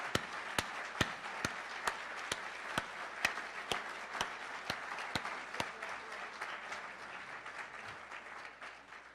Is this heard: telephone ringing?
no